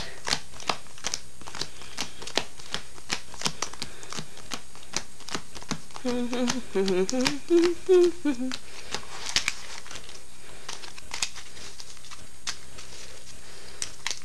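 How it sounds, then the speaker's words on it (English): A Yu-Gi-Oh card deck is split apart and riffled in a rapid run of close, crisp clicks and flutters, with talking in between. "let me see if I can do a quick shuffle here"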